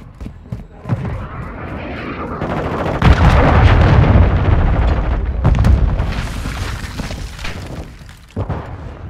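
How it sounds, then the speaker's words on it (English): Cruise missile strikes and heavy gunfire in the video game Call of Duty Modern Warfare 2 rumble loudly and continuously, with booming blasts swelling mid-clip amid crackling shots. "Hostile cruise missile incoming."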